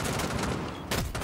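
Rapid, loud gunfire in Rainbow Six Siege, a dense stream of shots with a brief dip before the firing surges again near the end.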